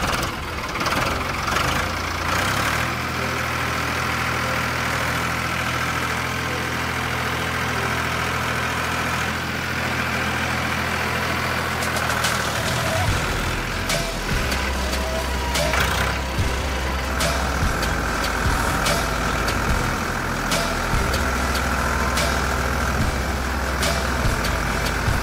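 A tractor fitted with football tyres in place of normal wheels runs its engine loudly and close for the whole stretch, a steady diesel rumble that shifts to a deeper, rougher note partway through as it drives on.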